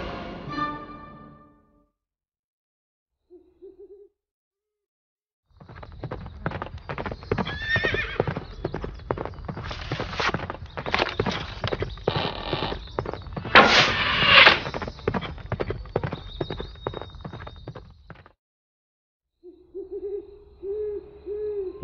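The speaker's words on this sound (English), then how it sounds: "riding full speed through the countryside on her horse Angus" A horse gallops at full speed across open countryside, its hooves clip-clopping in a fast, steady rhythm that is loud and close for several seconds, with owl hoots and a horse's whinny around it.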